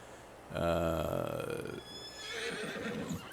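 A horse in the farming video game Farming Simulator 22 lets out a loud, close whinny that rises and trails off into snorting breaths, with no one talking over it.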